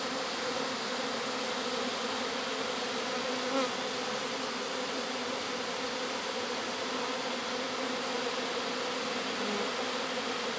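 A honey bee swarm buzzes in a dense, continuous hum, steady and unbroken throughout, moderately quiet with no voices over it.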